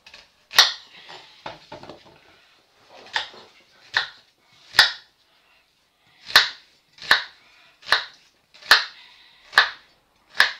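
A knife chops food into small pieces on a board, about a dozen sharp, crisp knocks in an uneven rhythm, close and alone with no talking.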